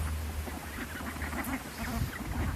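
A flock of backyard ducks keeps up a steady, somewhat distant quacking, several birds calling over one another for a few seconds without any voices.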